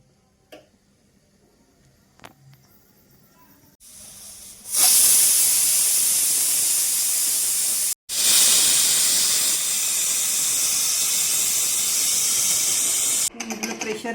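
A pressure cooker holding squid masala whistles. After a few faint ticks it breaks into a loud, sustained hissing jet of steam, cuts off for a moment, then hisses strongly again before easing near the end.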